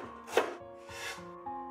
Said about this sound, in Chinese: 再切成薄片